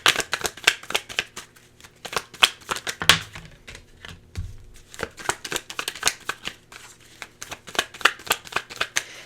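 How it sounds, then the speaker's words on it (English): Tarot cards shuffled and drawn by hand, a fast run of crisp papery flicks and riffles in bursts over several seconds, with a couple of soft thumps as cards are set down; no talking. "let me just pull 2 more cards"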